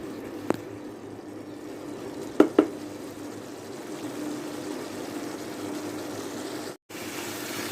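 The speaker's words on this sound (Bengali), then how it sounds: "এখন এই সম্পূর্ণ গুঁড়া মশলা কষানোর জন্য দিয়ে দিলাম সামান্য একটু পানি দিয়ে এখন সম্পূর্ণ মশলাটাকে খুব ভালো করে কষিয়ে নেব" Ground spice paste thinned with a little water fries in a pan for a rohu fish curry with potatoes and pointed gourd, making a steady low sizzle with a few sharp stirring clicks near the start.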